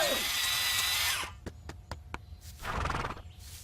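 A cartoon horse from The Simpsons whinnies loudly after a stretch of dense noise, with a few sharp clopping hits in between and no talk.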